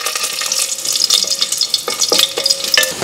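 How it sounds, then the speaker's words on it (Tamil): Mustard seeds, urad dal and three dried red chillies crackle and sizzle in hot oil in a pan, a dense, steady frying hiss with sharp popping spikes and brief stirring scrapes. "இப்போ பார்த்திங்கன்னா கடுகு உளுத்தம் பருப்பு பொரிய ஆரம்பிக்குது"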